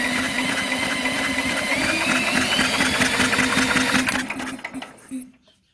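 An old lawn mower engine is spun over in a steady, even mechanical whir with a hum beneath it, close and loud, then it slows and dies out toward the end.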